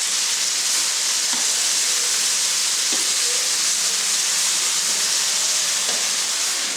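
Onion and tomato hit a hot pan for butter chicken, setting off a loud, dense, steady sizzle with a few faint clinks of a utensil underneath, no talking.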